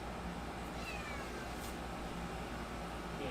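Clover, a male house cat, lets out a couple of faint meows, thin rising cries at middle distance against a quiet room hum.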